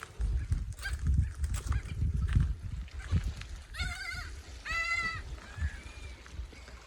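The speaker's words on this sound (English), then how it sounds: "Lots of birds." Birds calling near a tropical island shore in Queensland, a few loud honking, goose-like calls in short bursts over low wind and water rumble.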